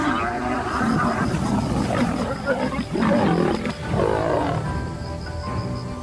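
Deep rumbling roars from a male lion on the savannah rise and fall across the clip, fairly close and heavy, with a few louder bursts.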